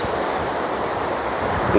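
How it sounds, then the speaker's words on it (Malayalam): Ocean waves roar in a steady, loud wash of surf at a sea beach beside a backwater lagoon, unbroken across the short stretch. "തിരമാല ഇങ്ങനെ വരുന്നു"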